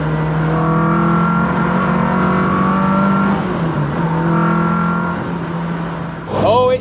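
Classic Ford cars rev and accelerate through a tunnel at a large Southend gathering, loud sustained engine drones rising and shifting in pitch, closing with a sharp rev burst.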